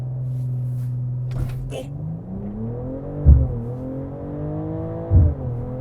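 A 2025 BMW M440i xDrive accelerates with launch control, its engine rising in a long whirring rev climb with a couple of deeper thumps along the way. Brief talk is heard near the start.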